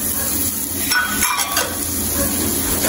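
Red onion and garlic sizzle steadily in a hot pan for a chicken tinola base, with brief stirring scrapes and faint utensil clinks over the continuous frying hiss.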